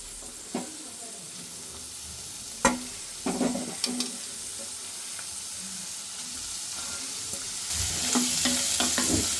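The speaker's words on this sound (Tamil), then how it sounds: "நம்ம இதை அரிஞ்சு வச்சுருக்கோம் இல்லையா அதை வந்து அந்த இதில் போட்டு கொஞ்சம் பரட்டி எடுத்துக்கலாம்" Chopped bitter gourd sautéing in a pan for a bitter gourd relish, a low steady sizzle broken by several sharp scraping stirs and clatters, with the frying growing louder toward the end.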